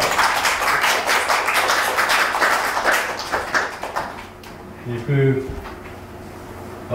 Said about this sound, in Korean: 앞에 앉아 계신데 박수 한번 부탁드리겠습니다.